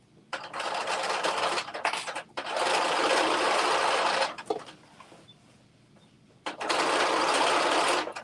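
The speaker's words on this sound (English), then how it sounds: "we are going to stitch this front together at 5/8 of an inch seam allowance" A sewing machine runs a seam in several loud, close bursts, with two long stretches of stitching, brief stops between them and a quieter gap before a final run.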